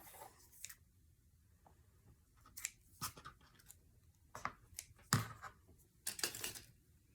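Scissors snipping thread while sewing pages into a junk journal, a series of sharp, close clicks and snips scattered irregularly across a quiet room.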